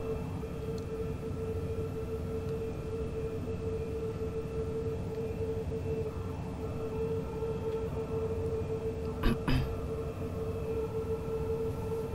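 A Talent 2 train passes in the opposite direction in Train Sim World 3 on the Köln-Aachen line, a steady rail rumble and tonal hum from the cab with a brief clatter burst near the end as it goes by.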